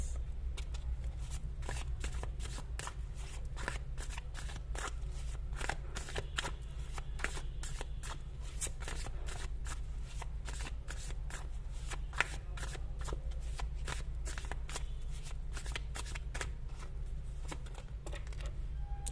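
Tarot cards are shuffled continuously and close up, a dense run of rapid papery riffles and flicks that holds for the whole stretch over a steady low hum, with no talking.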